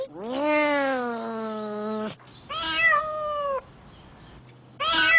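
A cat meowing up close, one long drawn-out meow followed by two shorter ones, loud and clear against quiet.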